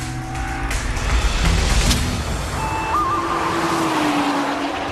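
A Nissan GT-R driven hard along countryside roads gives a loud, steady engine roar close by, with shifting tones and a brief squeal-like whine over the continuous noise.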